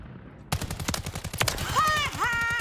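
Gunfire in a video game during a session of suppressing fire, starting abruptly as rapid, loud automatic bursts of shots that run on without a break, with high tonal whines near the end.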